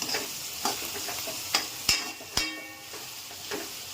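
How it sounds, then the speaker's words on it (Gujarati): Cashew nuts fry in a pan with a constant sizzle, punctuated by several sharp clinks and scrapes of a utensil stirring against the pan. "ચલો કાજુ પણ નાખી દીધા છે આપણે ત્યારે ફ્રાય થઈ જાય."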